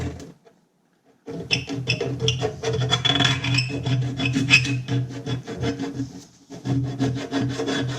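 A metal scribe scratches a line onto a rotary engine port, giving close gritty rasping strokes that run almost continuously after a brief quiet start, with short pauses between passes.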